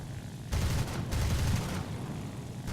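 Aircraft wing cannons test fire in the War Thunder video game, a dense rapid burst roaring for over a second, then a shorter second burst, over a steady engine drone.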